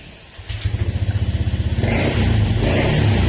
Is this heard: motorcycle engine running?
yes